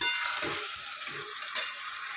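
Spice paste and tomato are stirred into chicken frying in a pan, giving a soft continuous sizzle with a few scraping stir strokes and a brief louder clatter, fairly quiet and close.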